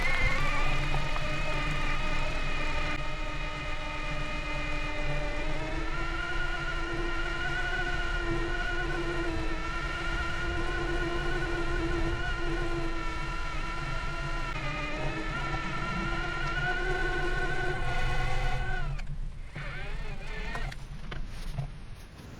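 A DIY 3D-printed-battery mid-drive e-bike motor pulls from a standstill on throttle alone up an 18% Dolomites slope, emitting a sustained, tonal electric whine that climbs slightly in pitch over steady wind and road noise.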